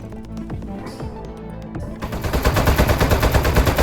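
Rapid game gunfire from Aperture Desk Job, a quieter spell giving way after two seconds to a dense, loud stream of repeated shots with a steady, pulsing rhythm.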